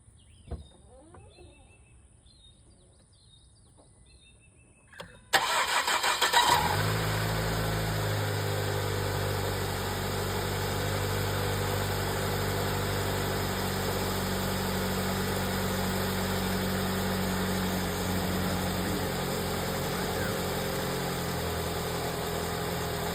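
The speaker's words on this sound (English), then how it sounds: "I'm gonna get ready to start this vehicle up." A Ford 2.0 Duratec car engine with overheating problems and a suspected failing head gasket cranks briefly, catches and settles into a steady close idle that drones on alone, after a quiet stretch with faint birdsong.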